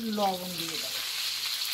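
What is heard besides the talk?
potatoes frying in oil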